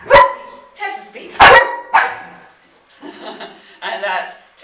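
Two dogs, Tessa and Jambo, bark on cue in a series of loud, close barks spaced a second or so apart, with a person speaking between them.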